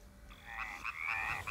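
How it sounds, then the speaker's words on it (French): Frogs croak in their garden pond at sunset, a chorus of rippling, trilling calls rising and overlapping at moderate distance, steady and clear with no talk. "Dans leur mare, les grenouilles profitent des derniers rayons de soleil."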